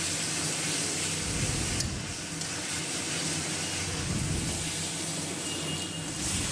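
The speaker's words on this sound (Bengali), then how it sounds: "এখন ভালো করে এই পেস্টটাকে ভাজা ভাজা করে নিব।" Onion, ginger and garlic paste sizzles steadily in a hot pan, a continuous close frying hiss with no talking throughout.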